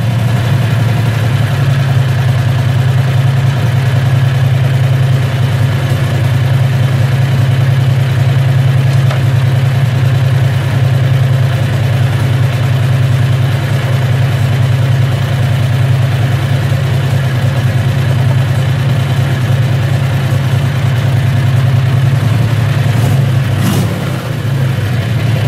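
A Predator 670cc engine fitted with a primer bulb, its gas tank below the carburetor on a standard pulse pump, runs at a steady loud idle with a deep constant drone and no change in pace.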